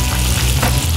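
Chicken pieces fry in a pan, giving a loud, steady sizzle close by with a few brief stirring bumps throughout.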